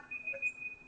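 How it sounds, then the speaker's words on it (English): An electronic alarm timer marking the end of a talk gives a thin, high steady tone with short repeated beeps pulsing over it, brief and moderately loud. "that is my alarm to tell me that I am done"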